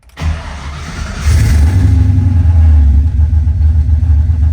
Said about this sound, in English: It is a great rumble in this car.